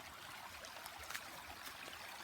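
A clean stream trickles quietly, a faint, steady babble of running water with light splashy detail close by, no talking.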